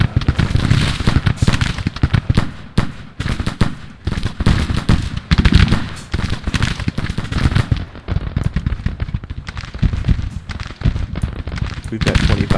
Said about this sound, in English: So they're firing on me.